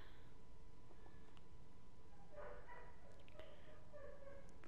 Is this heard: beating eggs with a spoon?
no